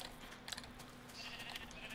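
Sheep bleat in the Minecraft video game, a few short synthetic bleats at moderate volume over a steady low hum, with no talking.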